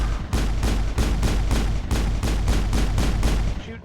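Rapid gunfire from the Mass Effect video game, a loud, close run of about a dozen evenly spaced heavy shots with booming low end, fired in a steady rhythm and ending abruptly.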